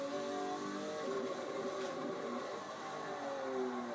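A car launches hard from a standstill and keeps accelerating, its engine rising in a steady drone with whining tones climbing in pitch, heard from a distance at moderate level.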